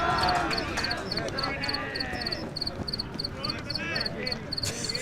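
Cricket chirping right at the microphone during a high school baseball game, loud repeated short high pulses in regular bursts over crowd and field noise with people talking.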